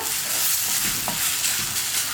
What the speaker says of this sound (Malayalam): ഇനി ഇഞ്ചി നന്നായിട്ട് കളർ ചേഞ്ച് ആയി വരുന്നത് വരെ നമ്മളൊന്ന് ഇളക്കി കൊടുത്തുകൊണ്ടിരിക്കുക